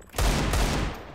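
Gunfire in the video game Counter-Strike: a loud, close burst of rapid shots lasting about a second, with a sharp onset and a short decaying tail, and no talk over it.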